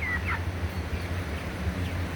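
A large flock of meat-bird hens peeps and clucks faintly over a steady background hum, with a few brief high calls standing out near the start.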